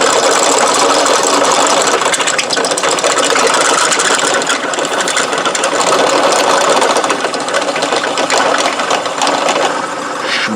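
A homemade burner fed with used oil runs loudly and continuously, a dense mechanical roar with steady rattling texture, close and unbroken by speech.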